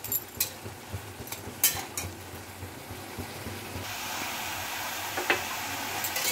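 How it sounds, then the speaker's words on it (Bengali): Sugar is stirred into radish curry in a pan with a spoon. Scattered light scraping clicks and taps come close up over a low steady cooking hiss, which grows a little stronger near the end. "চিনিটাকেও মিশিয়ে নিচ্ছি।"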